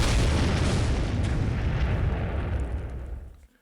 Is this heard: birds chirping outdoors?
no